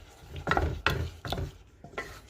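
Tomato sauce being stirred around a pan of chicken wings over medium heat, a few scraping, clattering strokes with soft sizzle beneath, close and moderately loud.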